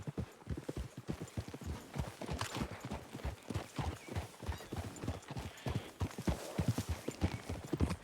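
Horses' hooves clip-clopping in steady, overlapping rhythm through a wooded clearing in the Western game Red Dead Redemption 2, several animals walking close by with a faint whinny, no talk.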